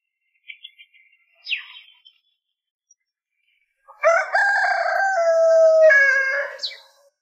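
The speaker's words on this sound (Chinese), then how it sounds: "你看那个公鸡，它都带领的那群母鸡在这儿生蛋" Soft, scattered clucks from hens, then a rooster crows loudly once in a long, clear call close by, outdoors in a rural hillside village.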